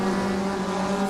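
Race cars in an SRA GTi Challenge round scream past on track, one steady loud engine drone holding a constant pitch throughout, with no voices heard.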